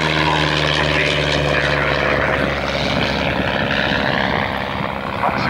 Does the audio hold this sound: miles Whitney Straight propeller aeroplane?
yes